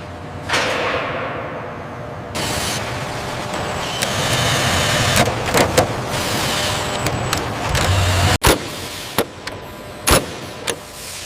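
A large aircraft assembly jig moves across a bay in a Boeing 787 factory, giving a steady mechanical rumble with scattered clanks and rattles and one sharp bang near the end.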